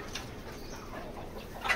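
Chickens settled in a newly built poultry shed give soft, faint clucks and coos, with a brief louder call near the end over a low background hum.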